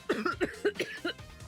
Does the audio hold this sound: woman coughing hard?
yes